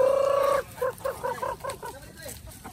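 Native chickens on a farm, one giving a loud drawn-out call before a run of short, close clucks that taper off, with no speech.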